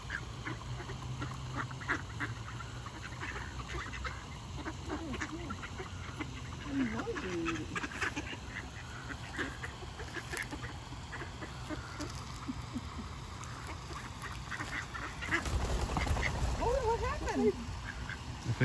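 Ducks quacking and chattering over a steady background hum, with scattered calls throughout and a louder burst of quacking toward the end.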